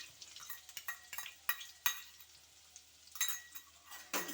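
Poppy seed paste being stirred into a Bengali parshe fish curry in a pan, with scattered scrapes and clinks of the spoon against the pan at close range and a faint sizzle between them, no talk.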